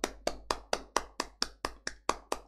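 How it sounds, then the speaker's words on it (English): A single pair of hands claps slowly and evenly for a live stream guest, about eleven crisp, close claps spaced at a regular beat with silence between them. "Guys, give him an applaud."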